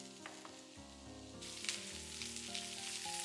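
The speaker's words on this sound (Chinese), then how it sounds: "用筷子把肉块翻面，继续煎另一面" Pork belly pieces fry in a pan with a bright, steady sizzle that swells partway through, heard alongside background music.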